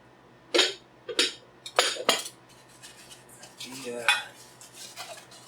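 Pyrex glass lid from a 1937 Flameware set knocking against a small skillet and a small saucepan, a few separate clinks and clatters of glass on cookware, close by and moderately loud, alone with no voices.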